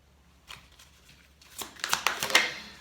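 Tarot cards are handled and laid down on a table at close range, giving quiet papery slides followed by a quickening series of soft snaps and taps.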